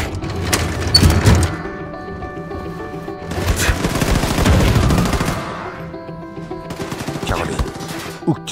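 Machine gun fire in Wolfenstein 2 on Switch comes in three dense, loud bursts of rapid shots with booming impacts, separated by quieter stretches, with speech faintly mixed in.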